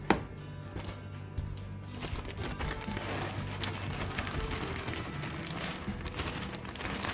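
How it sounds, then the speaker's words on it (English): Nuts tumble into a salad in a home kitchen, a steady close patter of small crackling impacts that runs on for several seconds after a couple of sharper clicks at the start. "I'm going to add some nuts"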